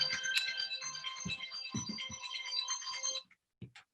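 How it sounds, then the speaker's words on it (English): A mobile phone ringtone plays a bright, repeating electronic melody for about three seconds in a quiet room during a panel discussion, then cuts off. "My boyfriend's phone."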